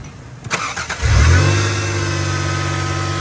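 A Toyota 4Runner with a swapped-in 3.4L engine cranks briefly, catches, then settles into a loud, steady idle heard up close.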